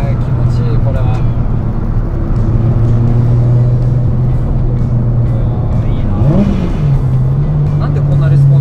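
A Toyota Supra JZA80 with a 2JZ engine and TO4Z full-turbine kit making 650 horsepower cruises at around 3000 rpm with a loud, steady droning hum that briefly swells near the end, while people talk over it inside.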